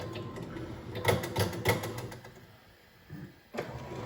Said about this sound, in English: the filament is going through the tube.